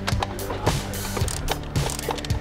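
A ratchet wrench undoing the last bolts on a 1JZ Supra drift car build, giving quick repeated clicking pawl strokes in an uneven rhythm, close and fairly loud.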